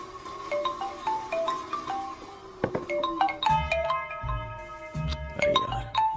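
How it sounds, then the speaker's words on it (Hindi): A phone ringtone plays a repeating melodic tone pattern in a Hindi-dubbed film scene, clear and fairly loud, with background music swelling beneath it. "अरे यार ये अभी क्यों फोन लगा रहा है?"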